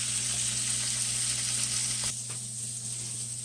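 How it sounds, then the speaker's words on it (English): Salmon fillet searing in a hot pan gives a steady, close sizzle with constant hiss; it softens slightly partway through but keeps going throughout. "we're just going to sear that side for about another 2 minutes or so"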